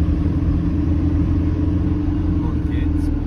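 A camper van drives through a village and rounds a left-hand bend, its steady engine rumble and road noise continuous and close, with a voice talking over it.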